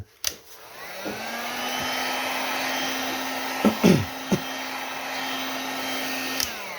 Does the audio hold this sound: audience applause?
no